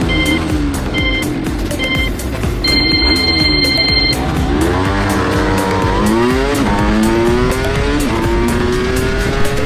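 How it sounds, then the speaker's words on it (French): A 125cc motorbike and an electric scooter set off on a street race: a few electronic beeps sound first, then the motorbike engine revs up close and loud, its pitch climbing through gear changes. "Avec Fogo on décide de faire la course parce que depuis tout à l'heure notre ami en trotte fait pas mal le malin et du coup on va faire un départ"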